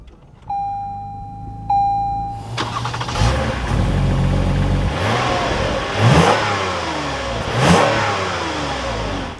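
A 2023 Lexus ES 350 F Sport sits with two short chimes before its engine cranks and fires, then settles into a steady idle punctuated by two rising revs, loud and close with no talking.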